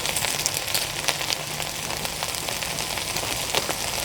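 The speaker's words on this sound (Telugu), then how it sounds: "ఇలా ఒక పక్క 2 నిమిషాలు, అలాగే రెండో పక్క తిరిగేసుకుని కూడా 2 నిమిషాలు చక్కగా ఫ్రై చేసుకుంటే సరిపోతుందండి" Butter garlic chicken frying in a pan gives a dense, continuous sizzle with scattered crackling pops that stays fairly loud and even throughout, with no voices.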